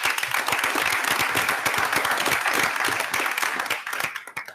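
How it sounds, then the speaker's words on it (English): An audience at a North Merrick schools gathering bursts into dense, continuous applause for school staff, holding steady before thinning out and fading at the end. "So a big round of applause for them."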